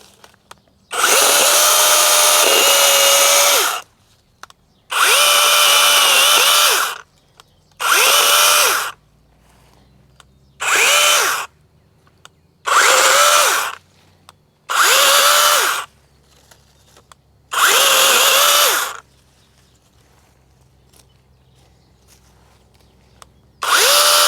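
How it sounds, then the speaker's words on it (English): A Vanpore mini cordless chainsaw with a 6-inch blade cuts through wood in eight loud, close bursts of high-pitched motor whine, each lasting one to three seconds and separated by brief pauses. "that's the Vanpore mini chainsaw"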